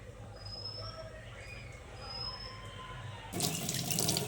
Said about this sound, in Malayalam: ഇനി നല്ലോണം മണ്ണ് കളഞ്ഞിട്ട് കഴുകിയെടുക്കട്ടെ